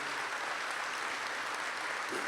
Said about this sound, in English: give them a round of applause for the work that they do